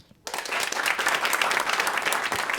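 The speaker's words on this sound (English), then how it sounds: "Applaud if you're from Manhattan." Theater audience at a live radio show breaks into loud, dense applause from people from Manhattan, starting abruptly after a brief quiet moment and holding steady to the end.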